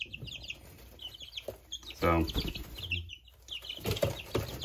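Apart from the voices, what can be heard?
baby chicks clucking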